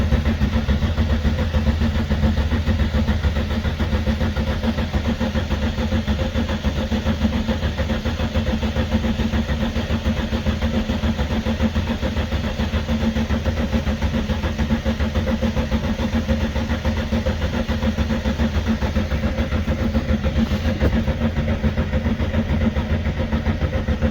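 A 1969 VW Beetle engine runs continuously at a steady, loud, even idle chug with no change in pace throughout.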